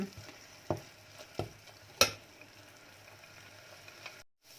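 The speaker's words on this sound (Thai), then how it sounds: "ผัดอย่างเงี้ยไปเรื่อย ๆ ให้มันหอมมีกลิ่นหอมนะคะ" Curry paste stir-fried with coconut milk in a pot: a quiet, steady sizzle broken by a few sharp clanks of a utensil against the pan, then a brief drop to silence at the end, no voices.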